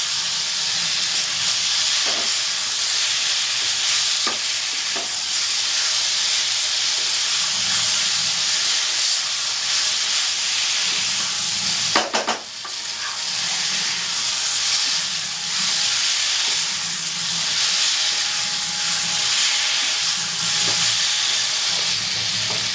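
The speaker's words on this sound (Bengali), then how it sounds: "এবার আমি আলুগুলো দিয়ে দেবো এবার মশলার সাথে আলুটা করতে থাকবো" Potatoes frying in a pan of cooked spice masala for a Bengali egg curry give a steady close hiss and sizzle. Occasional stirring clatters break through it, and one sharp burst of scraping or sizzling comes near the middle, with no talking.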